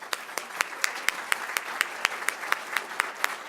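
Audience applause at a fall breakfast event, with sharp, evenly spaced claps ringing out in a steady rhythm in a hall.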